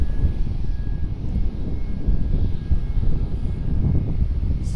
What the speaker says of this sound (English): Boeing 717 is that that loud thing that you can hear.